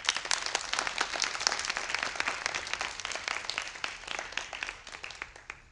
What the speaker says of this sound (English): please join me once again in applauding our new National Junior Honor Society members